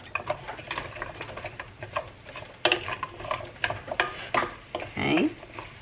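Vegetables are stirred in a soup pot for homemade chicken noodle soup, giving scraping, clinking spoon strokes against the pot in irregular bursts, close and moderately loud with speech in between.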